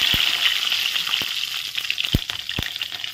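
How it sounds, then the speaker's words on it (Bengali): Panch phoron spices and green chilli crackle in hot oil, giving a bright, continuous sizzle punctuated by several sharp pops and spits, some of them loud and close. "পাঁচফোড়নটা ভেজে নিলাম।"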